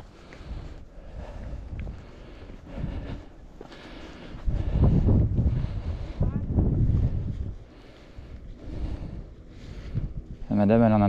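Strong gusts of wind buffeting the microphone on a rainy countryside hike near Villemaury, rising into a loud sustained roar midway before easing, with a voice speaking briefly.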